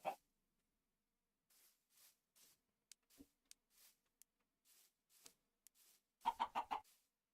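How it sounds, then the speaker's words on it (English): A single chicken in a survival video game clucks in short, evenly spaced bursts over several seconds, closing with a louder, rapid run of clucks; no one talks. "I only see the one chicken though."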